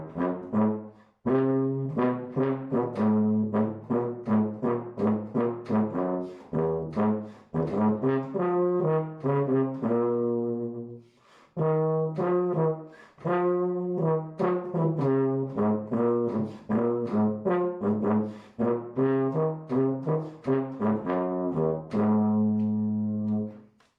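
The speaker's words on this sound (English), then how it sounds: "The tuba sounds like this." Solo tuba playing a lively melody of short and held low brass notes, with a brief pause midway, clear and close, with no talk.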